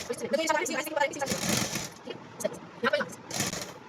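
A sewing machine stitches a suit collar in short rattling bursts of needle clatter, separated by brief pauses, while someone talks over it.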